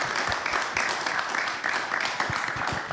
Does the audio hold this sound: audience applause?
yes